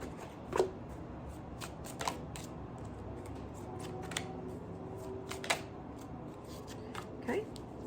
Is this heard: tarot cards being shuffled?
yes